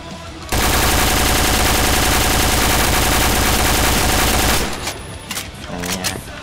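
A video-game AUG A3 rifle fires in one long, loud, unbroken automatic burst lasting about four seconds with recoil held in check, then cuts off, leaving softer clatter and faint echoes.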